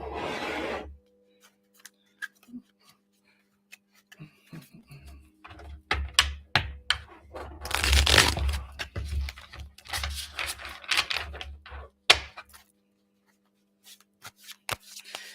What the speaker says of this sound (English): Let me go and shuffle this deck first.